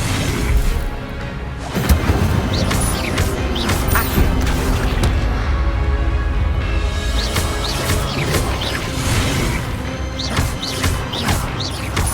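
Loud crashes, booms and impacts ring out from a Hogwarts Legacy battle as the Incendio fire spell is cast, with repeated whooshing bursts and thuds layered densely throughout and no speech.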